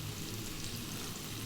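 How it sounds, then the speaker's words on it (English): Onion, celery and garlic fry over high heat in sunflower oil, making a quiet, steady sizzle for a brief moment with no talking. "We're going to drop in the onion, the celery, which I think is beautiful in there."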